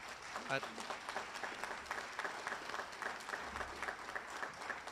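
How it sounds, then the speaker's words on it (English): An audience at a Prince Hall scholarships and awards day program breaks into sustained, fairly distant applause that lasts the whole stretch, with a brief voice near the start. "So give him a round of applause."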